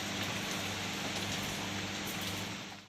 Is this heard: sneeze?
no